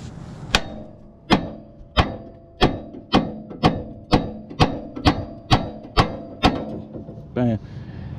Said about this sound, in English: So what you could do with a hammer, easy, just do hit it right here.